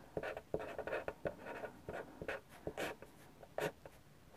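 Pen writing on paper while making a handmade envelope for an art and junk journal, close and soft, with a run of short scratchy strokes in an uneven rhythm and brief pauses between them.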